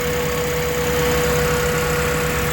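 A car engine with low compression and blow-by idles steadily after intake and throttle body cleaning, a close, even hum with a faint knocking rumble and no voices.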